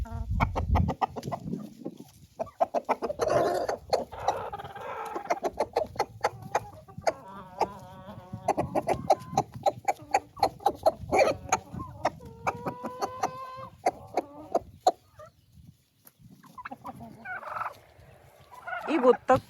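Roosters kept in a polycarbonate greenhouse crow and cluck repeatedly, several long crows standing out over scattered clucking and rustling, fairly close and moderately loud with brief quiet gaps.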